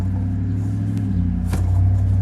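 A Chevy Silverado's compressor with a bearing fault runs as the engine is turned, a steady low droning hum close to the microphone, with a brief faint clicking tick and a swell in level toward the end.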